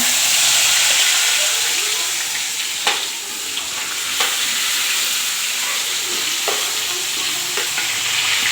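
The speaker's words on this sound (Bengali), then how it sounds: "চলো আলুগুলো দিয়ে দিচ্ছে লাল লাল করে ভেজে নেবে" Potatoes frying in a pan after eggs were fried in it, a loud, close, continuous sizzle and hiss broken by a few sharp scrapes and taps of stirring, with no one speaking.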